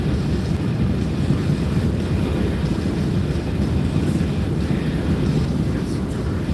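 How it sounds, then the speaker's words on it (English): Strong wind blowing outdoors along a desert border wall, a loud continuous low roar buffeting the microphone with no let-up and no voices. "We got a little wind pushing us around today."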